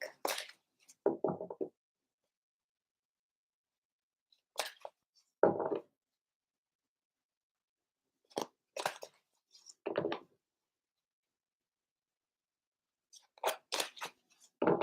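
A deck of tarot cards is shuffled in several short, crisp riffling bursts separated by quiet pauses, close and fairly soft.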